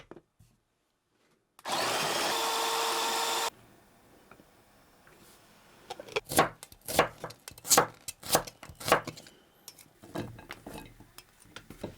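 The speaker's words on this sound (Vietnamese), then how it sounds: "Đầu tiên mình cho hành tỏi vào cối, mình xay ra to to như thế này." An electric grinder whirs briefly and loudly over shallots and garlic for about two seconds, followed by a run of sharp, close knocks and taps in a kitchen.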